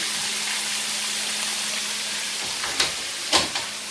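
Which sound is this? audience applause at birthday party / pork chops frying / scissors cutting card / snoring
pork chops frying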